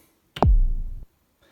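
A single deep kick drum hit, a sharp click followed by a booming low thump that decays quickly into silence.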